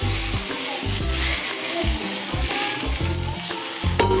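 Hot oil tempering of mustard and cumin seeds poured over Gujarati dhokla sizzles and spits loudly and steadily, with faint stirring clinks, close up and with no one talking.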